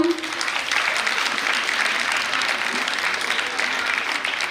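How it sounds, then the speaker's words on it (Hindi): Loud, steady applause from an audience at a KPMAS event in 2023, continuous dense clapping throughout with no break. "जोरदार तालियां।"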